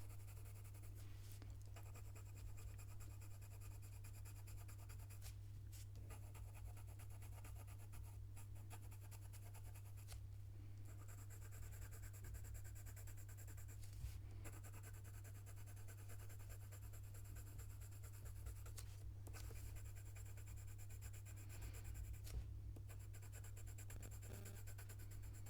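Polychromos coloured pencil drawing on paper, a faint, close scratchy rasp of the lead across the surface in short strokes with brief pauses, over a steady low electrical hum.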